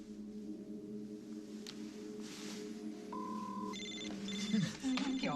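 Telephone ringing after a call is placed to the last number dialed, a steady electronic ring tone sounding in repeated pulses over a low room hum, with brief higher tones near the end.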